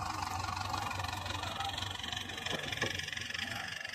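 A tractor with a handle-start engine idles steadily in a farm field, a continuous low mechanical drone with a faint rhythmic chug, fairly distant and quiet, with no talk over it.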